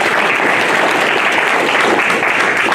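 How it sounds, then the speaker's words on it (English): Sustained, dense applause from an audience at an Akron fire department EMS 40th anniversary celebration, loud and steady for the full length with no speech over it. "how about giving yourselves a round of applause"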